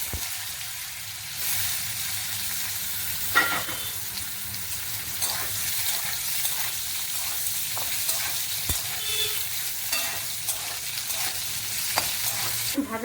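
Boiled potatoes, cooked with salt and turmeric, fry in a pan for a papaya curry, giving a steady sizzle with occasional stirring clinks throughout, close and fairly quiet, with no talk.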